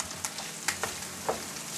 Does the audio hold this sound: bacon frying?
yes